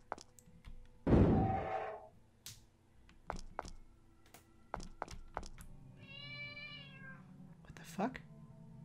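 A cat meows inside the horror game Mad Father, one drawn-out tonal cry midway, amid soft thumps, footstep-like knocks and a louder burst of noise near the start, with a brief voiced sound near the end.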